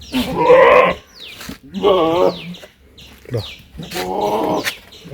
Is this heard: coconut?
no